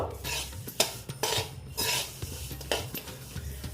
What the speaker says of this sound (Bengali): মোটামুটি এটা অনেকটাই ভাজা হয়ে গেছে আর একটু লাল করে নেব